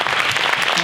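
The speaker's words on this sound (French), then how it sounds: "Vous pouvez de nouveau applaudir." A short burst of audience applause at a talk with a film director, dense and fairly close clapping with no voices over it.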